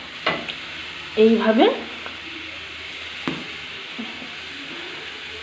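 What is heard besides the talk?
food frying and sizzling in a pan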